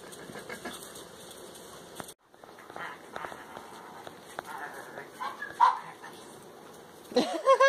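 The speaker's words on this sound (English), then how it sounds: "So many puppies!" A litter of puppies yips, barks and whimpers in soft, scattered bursts close by, with a few louder yelps near the end and faint human voices mixed in.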